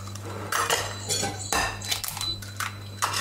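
Honey and eggs for a banana cake are stirred in a bowl, with utensils clinking and scraping against the dish in quick, irregular strokes over a low steady hum.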